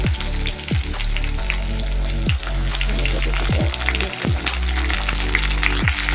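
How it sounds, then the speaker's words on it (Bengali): Chopped onion and tomato fry in a pan in a loud, continuous sizzle with bubbling crackle, broken by several low scraping thumps of a spatula stirring, close by. "এটা একটু ভালো করে ভেজে নেব।"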